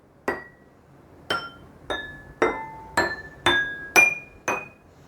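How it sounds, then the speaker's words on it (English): Eight sharp clinks of a pencil tapping glass bowls, each ringing briefly at a different pitch, spaced at an even, unhurried pace. "I will just strike this the bowls with the pencil, simple pencil."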